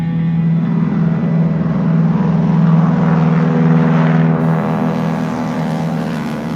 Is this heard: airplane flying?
yes